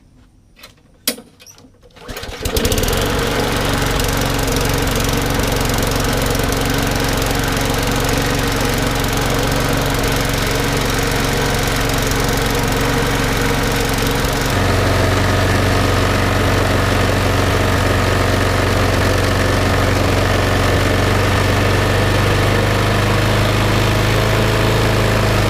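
A Craftsman lawn mower engine is pulled into life after a few quick clicks and rattles, then roars loud and steady close by, its pitch shifting slightly partway through as it keeps running.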